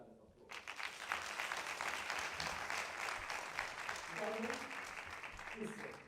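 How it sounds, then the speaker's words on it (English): A conference audience gives a pioneer in gender and education a big round of applause, sustained clapping throughout with a brief voice near the end. "Give her a huge round of applause."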